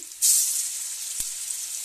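Garlic sizzles in hot oil in a pan, a loud hiss that bursts in suddenly and then holds steady, with one sharp tap of a utensil partway through.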